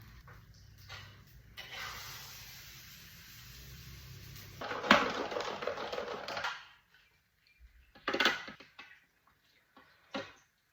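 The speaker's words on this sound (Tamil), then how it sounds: "சின்னதாக வச்சாலும் சில சமயம் கடுகுலாம் ரொம்ப கண்ணா பின்னான்னு தெரிக்கிறது" Mustard seeds splutter and pop in hot oil, with a hissing crackle, then sharp scattered bursts of popping that fade between louder spits.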